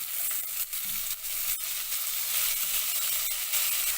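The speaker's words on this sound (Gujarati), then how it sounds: "હવે આપણે તેની અંદર ટમેટાં ઉમેરી દેશું" Tomatoes hitting hot ghee in a pan while cooking a temple prasad vegetable dish, giving a loud, steady sizzle throughout with a few faint stirring knocks and no talk.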